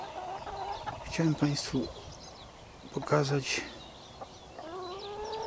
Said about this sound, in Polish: Są to bażanty, chyba samiec i samica.